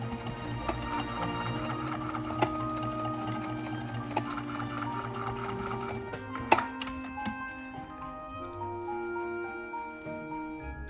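A sewing machine stitches over elastic to reinforce its join to Velcro straps on handmade dog boots, running in a steady mechanical whir with brief pauses, close and alone with no talking.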